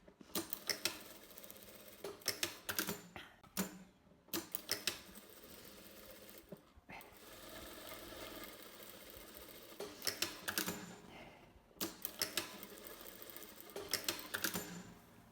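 A sewing machine stitches the curved edge and corners of a lined coat collar, with quiet irregular bursts of mechanical clatter and short pauses between runs.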